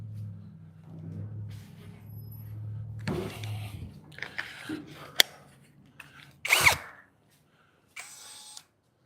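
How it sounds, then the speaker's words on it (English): A power drill works in a shop on a 1957 International cab-over truck, giving short, fairly quiet whirring bursts broken by clatter, a sharp knock and a few seconds of silence. "This drill has a little light on it."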